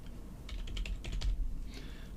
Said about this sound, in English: So we're going to type anim dot set